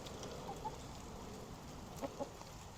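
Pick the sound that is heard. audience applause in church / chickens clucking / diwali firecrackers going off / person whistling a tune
chickens clucking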